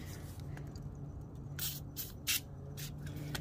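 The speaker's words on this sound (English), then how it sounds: "I recommend you to lubricate this gasket before you install it." Short bursts of lubricant spray hit a thermostat gasket for a 2005–09 Mercedes-Benz SLK350, about four quick hisses close by, with a low steady hum underneath.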